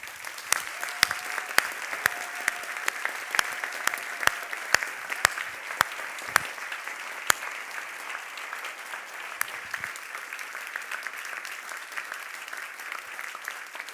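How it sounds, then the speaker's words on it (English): A banquet audience gives a round of applause, a steady, moderately dense clatter of many hands clapping that continues evenly for well over ten seconds without voices. "I hope that you will join me in a round of applause for them"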